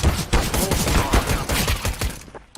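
Rapid gunfire from the video game CS:GO rattles out in a dense burst of repeated sharp shots, loud and close, before cutting off abruptly at the end.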